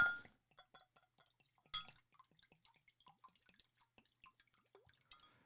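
Water is fetched and handled during a live talk show, heard as faint, sparse drips and light clinks scattered through a quiet room.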